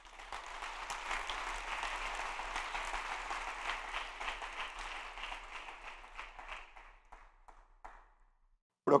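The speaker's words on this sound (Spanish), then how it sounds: "Denle un aplauso al Señor." A church congregation applauds in a sustained burst of many hands clapping together, steady for several seconds and then thinning out into scattered claps before fading.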